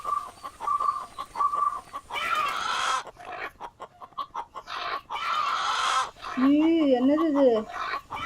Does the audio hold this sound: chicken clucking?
yes